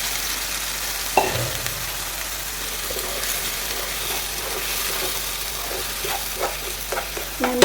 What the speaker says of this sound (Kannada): ಇವಾಗ ಮಸಾಲೆ ಆ್ಯಡ್ ಮಾಡ್ತಾ ಇದ್ದೀನಿ ನಾನು,